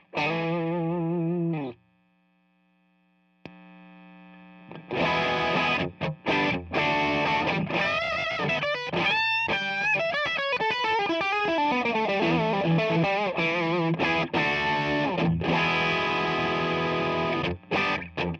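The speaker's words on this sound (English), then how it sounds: "here's the BB preamp by Exotic by itself" Electric guitar played through an Xotic BB preamp overdrive pedal, a brief sustained chord and a faint single note followed by fast, loud, crunchy lead runs and chords, close and dry, with no talking.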